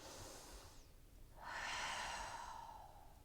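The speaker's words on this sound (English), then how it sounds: "Breath in and breath out." Slow breath out and in during a mobility and restore workout, soft and close, a long airy exhale fading then a fuller inhale swelling, quiet with no speech.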